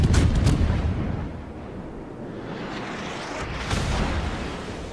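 Cruiser shells firing in World of Warships aboard the Indianapolis, several heavy booming salvos that open loud and close, followed by a rumbling lower roar and another softer volley.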